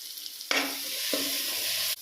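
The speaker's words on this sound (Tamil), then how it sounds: "இஞ்சி பூண்டு பேஸ்ட் ஆட் பண்ணுறேன் இதை போட்டு கொஞ்சம் நேரம் வதங்கட்டும்" Ginger garlic paste sizzles loudly as it hits frying onions in a pot for mutton biryani, a sharp hiss starting abruptly and holding steady, with a brief stir knock midway and no voices.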